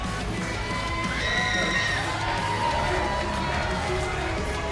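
Loud wrestling crowd cheering and whooping as a wrestler makes his way to the ring, a dense, sustained roar of shouts and cheers throughout, with a commentator talking over it.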